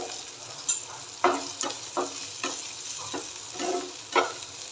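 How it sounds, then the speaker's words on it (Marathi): Carrots and cabbage stir-fried in oil over a high flame, with a steady sizzle broken by repeated spatula scrapes and knocks against the pan, close and fairly quiet, with no one speaking. "हाय फ्लेमवरच आला ना थोडंसं परतून घ्यायचं आहे तेलामध्ये"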